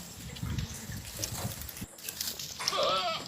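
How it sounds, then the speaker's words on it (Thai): A breeding buck goat kept with does on a farm, with faint bleats and animal sounds over a rustling, breezy background, plus a brief higher cry near the end. "นี่นะคะแพะพ่อพันธุ์ของกับแม่พันธุ์ของเราก็จะประมาณนี้นะคะ"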